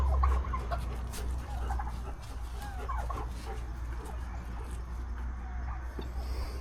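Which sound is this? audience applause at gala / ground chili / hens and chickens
hens and chickens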